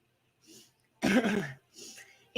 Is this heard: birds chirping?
no